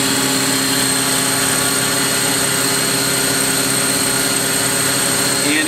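A Citizen A32VII CNC Swiss lathe spindle spins at 4000 RPM, giving a steady, even machine hum with a faint high whine heard up close, continuous and unchanging throughout.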